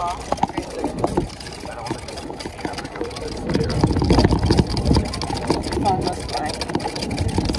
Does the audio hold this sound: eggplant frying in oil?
no